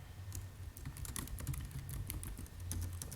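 Computer keyboard typing and mouse clicks: quick irregular taps in a close, quiet room, short bursts of keystrokes with brief pauses, fairly soft.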